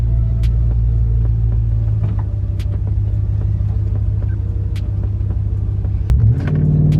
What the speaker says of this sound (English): I'm gonna try a 4-wheel drive launch here.